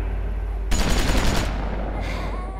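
AK rifle gunfire in The Walking Dead: Season 2 video game, a sudden loud burst of rapid automatic shots lasting under a second, followed by a lingering rumble and background game ambience.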